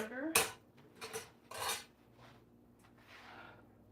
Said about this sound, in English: give that a little stir because it's full of sugar